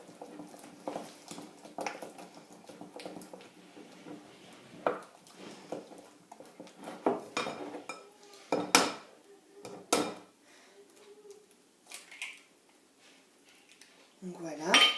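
Eggs are stirred into choux pastry dough in a pot, making irregular knocks and scrapes of a utensil against the pot while someone talks in French throughout.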